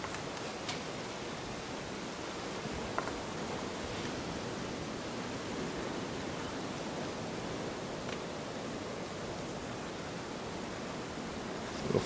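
Lightly battered firecracker shrimp fry in a pan with a steady, even hiss of oil, close and constant with a few faint pops, and no talking over it.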